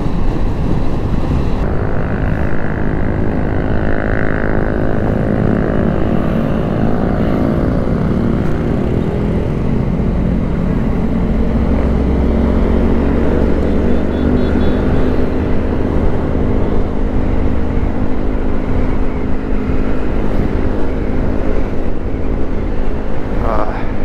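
Group of Yamaha Mio scooters riding together with open mufflers, a loud continuous engine drone with shifting revs and wind rush, a voice talking over it.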